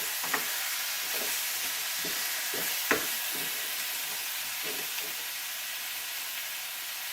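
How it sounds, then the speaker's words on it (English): Cinnamon being stirred into lamb's quarters greens cooking in a pan, with a steady soft sizzling hiss and a few faint scraping clicks of the spoon, close and quiet, no voices. "Just stir it up."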